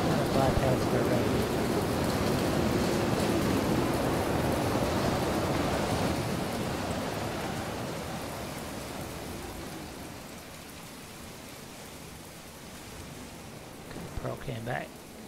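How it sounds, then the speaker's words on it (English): Steady, dense rain in the video game Planet Explorers hisses loudly at first, gradually thinning and softening, with a brief faint voice near the end. "Okay, I don't like this rain"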